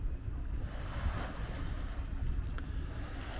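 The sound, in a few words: waves on the water at Liverpool waterfront at night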